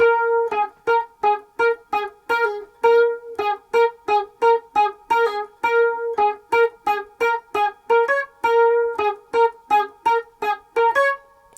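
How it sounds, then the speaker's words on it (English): An overdubbed guitar lead line of quick, evenly picked single notes in a steady rhythm, clean and close, with no other instruments. "So that overdubbed lead part sounds like this."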